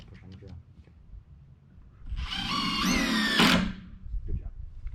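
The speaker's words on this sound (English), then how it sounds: "Can't push on the drill." A power drill drives screws into wood while building a raised garden bed, a single whirring burst of about two seconds that rises in pitch, with voices talking before and after.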